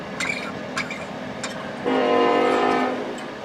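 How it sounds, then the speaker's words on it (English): Train passing nearby, a rising rumble and steady horn-like tonal drone entering midway after a few sharp knocks, loud and sustained over the rest of the stretch. "Hi, Mr. Train."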